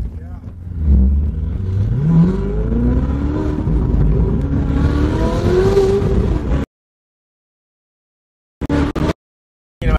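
A car engine accelerates and revs while driving into a backyard, its pitch climbing in several rising sweeps under speech, then cutting off abruptly, followed by a couple of short loud bursts.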